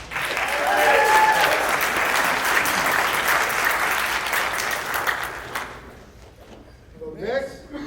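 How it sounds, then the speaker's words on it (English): An audience applauds a performer at a stage show: sustained, dense clapping fills most of the stretch, then tapers off, and a few scattered claps and murmurs linger at the end. "Can we get another applause for Sam?"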